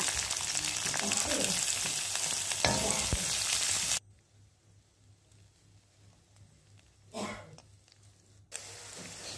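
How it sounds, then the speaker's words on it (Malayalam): Ginger, garlic, green chili, curry leaves and onion sizzle in hot oil as they are stir-fried, a loud crackling hiss that cuts out abruptly midway, with a brief scrape, then returns. "ഇഞ്ചി വെളുത്തുള്ളി പച്ചമുളക് കരിയാപ്പില സവാള എല്ലാം ഇട്ട് വരട്ടിയെടുക്കുക"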